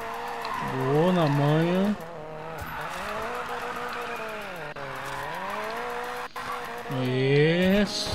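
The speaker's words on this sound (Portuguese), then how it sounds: "a gente fez um drift aqui" A car drifts through a Speedcross event in Need for Speed Payback, its engine revving in sweeping rises and falls with tire squeal through the turns, loud and steady, while a voice talks over it.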